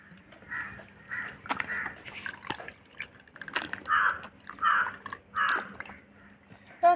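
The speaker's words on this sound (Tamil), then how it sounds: "இப்போ தண்ணி ஊற்றிடலாம்." Water trickles and drips in short, bright bursts as it is poured onto rice in a toy kitchen set, each burst separated by brief pauses, close and clear with no talking.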